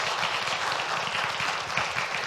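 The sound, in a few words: round of applause for a coordinator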